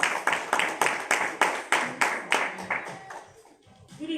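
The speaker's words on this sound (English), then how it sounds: "Give a round of applause here." A live evening event audience claps in a round of applause, a steady run of sharp claps that thins out after about three seconds, with a few voices murmuring underneath near the end.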